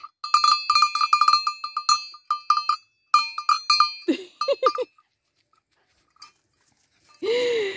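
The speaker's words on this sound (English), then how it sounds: "that's why we got bells for the gate" Clanking gate bells jangle repeatedly in quick, uneven bursts, followed by a few brief squeaky yelps, a quiet pause, and a final short rustle.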